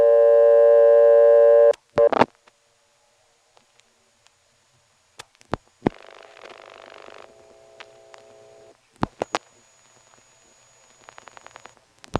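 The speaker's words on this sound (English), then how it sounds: "you'll hear the class of service tone coming on" Class of service tone on a GTE step-by-step telephone exchange in a 1977 coin-phone call, a steady multi-tone signal at the start, followed by clicks, switching noise and brief beeps along the line.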